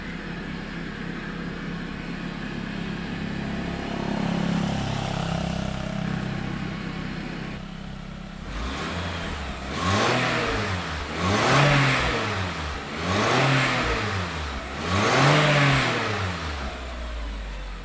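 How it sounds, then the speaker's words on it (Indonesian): A petrol car engine on a cold morning, giving off white exhaust smoke, idles with a steady rumble, then revs up and falls back repeatedly in four or five rising surges, close and loud. "ini kita coba gas lagi ya teman-teman"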